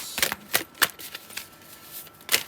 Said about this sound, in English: Sorry if you don't like the shuffling,